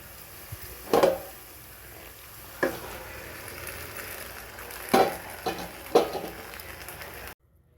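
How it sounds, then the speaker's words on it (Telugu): Boiled Maggi noodles stirred and fried in a pan, a soft continuous sizzle broken by several distinct scraping stir strokes at irregular intervals. "ఇప్పుడు ముందుగా మనం ఉడకబెట్టుకున్న మ్యాగీని కూడా వేసేస్తున్నాను."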